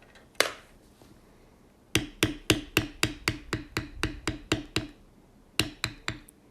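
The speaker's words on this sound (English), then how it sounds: "So we'll just bevel that line, and then we'll come up and bevel this one all the way down." Leather tooling with a beveler and mallet, beveling lines on a bucking horse pattern: one sharp strike, a pause, then a steady run of about a dozen close, crisp taps, a short gap and a few more.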